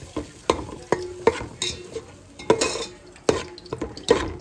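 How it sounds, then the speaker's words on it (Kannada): Marinated eggs fry in oil in a pan for egg biryani, with a steady sizzle under repeated rhythmic scraping strokes of a stirring utensil, close and fairly loud, with no talk. "ಸೊ ಆಯಿಲ್ ಸಪ್ರೇಟ್ ಆಗತ್ತನ ಇದು ಹಿಂಗೆ ಫ್ರೈ ಮಾಡಬೇಕು ಒಂದು ಸ್ವಲ್ಪ"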